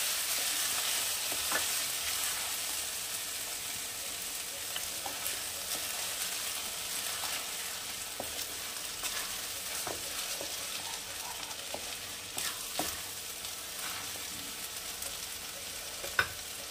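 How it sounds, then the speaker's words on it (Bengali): Washed rice being fried in a pan for chicken tehari, a soft, steady sizzle with faint scrapes and clicks of stirring scattered throughout, fairly quiet and free of talk. "চালটা আমি ভাজা ভাজা করে নিয়েছি, এর থেকে বেশি ভাজার দরকার নেই।"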